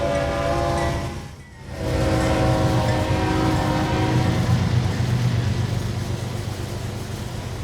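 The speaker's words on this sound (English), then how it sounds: "Four big 6-axle General Electric locomotives lead the empty coal drag under full power." A CSX empty coal train in the Trainz game, led by four six-axle GE locomotives in Notch 8 under full power, gives a loud, continuous diesel roar with steady engine drone, briefly dipping early then holding strong.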